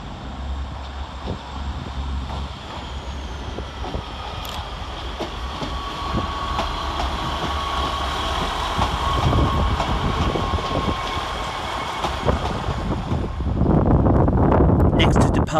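Trains at Sheffield railway station, with a steady rumble of engines and rail noise building toward a louder passing surge at the end, under windy platform ambience and some scattered voices.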